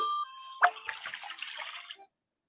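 Water pours from a jug into a bottle, a short splashing gush of about a second and a half that begins with a click and then stops abruptly, close and clear in a quiet room.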